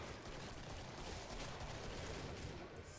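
Gunfire in the video game Killing Floor comes as a dense, continuous barrage of rapid shots at a steady level, with no voices.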